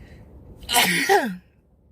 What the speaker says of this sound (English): Weed always make me sneeze.